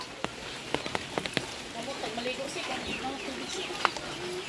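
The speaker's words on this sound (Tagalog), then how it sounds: "Sikain na yung mga manok." Farm chickens cluck and chatter while being fed their ration on wet ground, a steady busy flock sound with a few sharper peck-like clicks early on, fairly close, with no clear speech over it.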